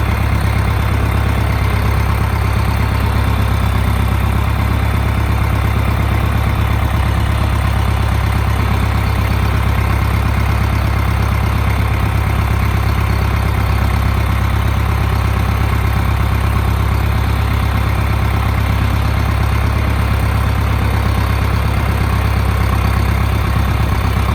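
A John Deere 2510 diesel tractor engine idles steadily and loudly up close, a constant low rumble with no voices.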